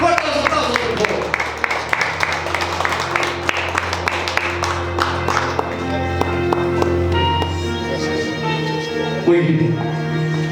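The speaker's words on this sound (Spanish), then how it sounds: "Fuertes los aplausos, por favor" A wedding crowd claps for the couple's sponsors, a steady, dense round of applause that stays loud throughout, with music ringing underneath and faint voices mixed in.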